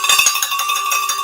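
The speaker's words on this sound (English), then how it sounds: "Let me ring the bell for my own self." A bright metallic bell rings loud and close in one sustained, shimmering strike that keeps sounding and slowly fades, with no talking.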